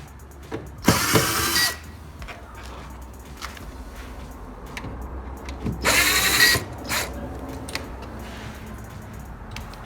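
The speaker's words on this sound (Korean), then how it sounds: "여기서 나사를 똑같이 양쪽을 풀어줍니다." A power tool whirs in two short, loud bursts, unscrewing screws from both sides of a car's interior during a rear parking camera installation, with quieter ticks and handling clicks in between.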